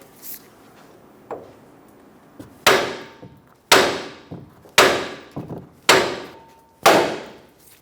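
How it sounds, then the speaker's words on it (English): Sharp metallic hammer strikes on a steering knuckle of a 2014-2018 Chevrolet Silverado 1500 to pop the ball joint ring out, a few light taps followed by five heavy, evenly spaced blows, each with a short ringing decay. "Using a hammer, we're going to hit the knuckle where the ball joint is sitting."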